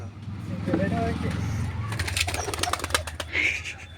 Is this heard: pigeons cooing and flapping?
yes